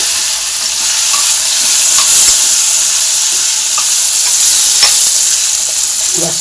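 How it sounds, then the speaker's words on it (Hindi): Potatoes fry in a pan with cumin, asafoetida and turmeric in an Indian home kitchen, a loud, even sizzle that runs throughout with faint occasional clicks of stirring. "ये आलू पहले फ्राई करूँगी"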